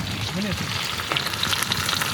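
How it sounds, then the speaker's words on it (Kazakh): A kettle of tea water heating over an outdoor fire in Mangystau starts to come to the boil, giving a steady close hiss and bubbling crackle, with a voice briefly heard near the start. "О, уже шайнегіміз міне қайнайын деп жатыр."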